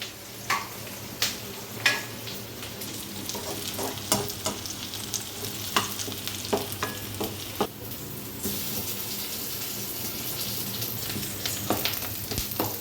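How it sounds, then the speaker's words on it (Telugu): Egg bread curry frying in a pan, a steady close sizzle with repeated sharp scraping and stirring knocks scattered through, fairly loud and continuous with no talk. "ఇంకెంతసేపు ఫ్రై అవ్వాలి ఆల్మోస్ట్ అయిపోయింది"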